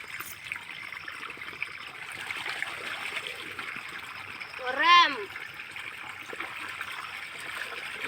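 Water trickles and splashes steadily nearby as a child plays in it while rose plants are watered, with a brief high-pitched young voice rising once in the middle.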